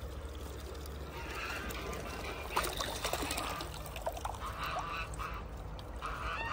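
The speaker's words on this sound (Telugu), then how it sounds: "ఎవరో ఈ ట్యాప్ తిప్పేశారు, నీళ్ళు అన్నీ పోతున్నాయి." Water trickles and pours steadily from an open tap at a farm plot, a faint continuous flow with scattered splashes and no talk.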